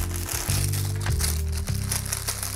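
A plastic bag holding a Captain Future toy motor crinkles and crackles as it is handled up close, in uneven bursts of rustling over a couple of seconds.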